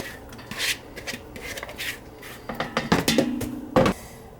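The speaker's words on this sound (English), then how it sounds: "So we'll throw carrots, onions, celery, and red potatoes right in there." Chopped carrots, onions, celery and red potatoes tumble into a pot for beef stew, a few scattered thuds and rattling scrapes against the metal, close and irregular, with no talking.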